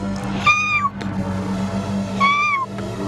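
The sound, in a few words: cat meowing, the farm cat in a story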